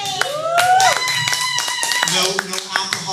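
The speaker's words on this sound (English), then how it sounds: "Give yourselves a big round of applause." Applause from a comedy show audience at a playhouse, a burst of scattered clapping that runs throughout while a voice speaks over it.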